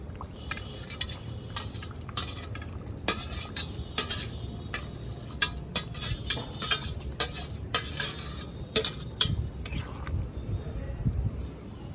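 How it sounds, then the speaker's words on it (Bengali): Fried eggs are added to a potato curry and stirred in the pan. Scattered metallic scrapes and clinks of the spoon against the pot sound close, with a faint sizzle underneath. "এবার আমি এই যে ভেজে রাখা ডিমটা দিয়ে দিলাম"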